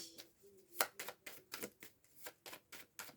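Tarot cards being handled and laid down on a table during a reading, a quick series of soft papery slaps and shuffles at a steady irregular rhythm, close and fairly quiet, with no talking.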